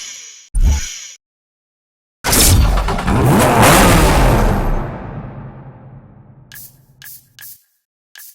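A Lamborghini Diablo VT, the 1993 all-wheel-drive model, revs in Need for Speed Hot Pursuit: a short sharp burst, then a loud roaring rev that fades over several seconds, followed by a few quick throttle blips.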